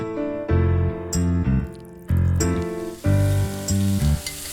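Pork tenderloin sizzles as it stir-fries in hot oil, with a bright crackling hiss under loud, tuneful background music.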